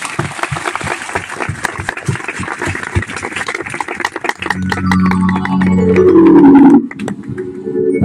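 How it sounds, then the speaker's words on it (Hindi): A crowd at a church youth meeting claps loudly and steadily, a dense run of close applause that swells, then gives way to a sustained musical tone before ending abruptly. "आम उच्च करताली सम्मान"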